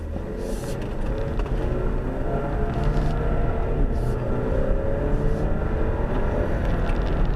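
An Alfa Romeo Stelvio accelerates up a highway on-ramp, its engine note rising under steady, loud road and tire roar for several seconds, with no talking.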